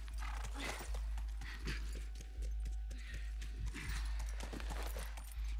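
Rhythmic clip-clop of video game horse hooves at a steady trot, close and clear over a continuous background hum.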